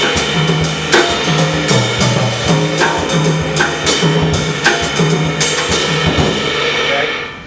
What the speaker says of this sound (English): an African groove that came out of the 6/8 style sounds like this.